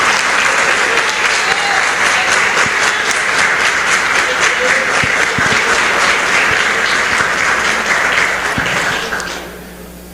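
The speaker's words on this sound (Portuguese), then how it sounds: "Você pode aplaudir ao Senhor nessa noite?" A church congregation applauds together in sustained, loud, dense clapping that carries steadily for about nine seconds before tapering off near the end.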